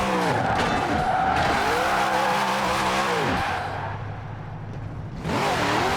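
Loud, continuous tire skidding and squeal from a wheelie-tuned car in Forza Horizon 4, with engine roar sweeping up and down, a brief dip near the end, then renewed skidding.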